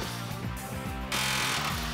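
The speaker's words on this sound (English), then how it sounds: "Cut grooves into the round head, then hit it with an air hammer and chisel bit." Air hammer with a chisel bit knocking out factory rivets on a 1966 Chevy C-10 truck frame, a rapid, loud, continuous pneumatic hammering close by with no talk.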